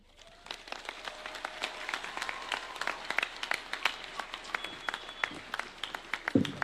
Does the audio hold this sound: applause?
yes